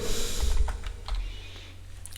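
Quick, close-up clicking of keys on a computer keyboard, a short run of keystrokes with no voices.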